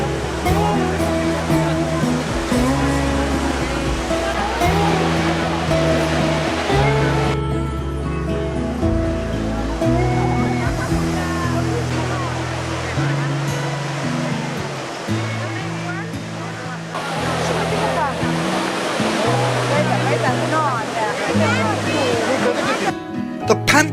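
Water splashes and rushes steadily at the Trevi Fountain in Rome at night, a loud, continuous wash heard up close beneath music and the murmur of a crowd.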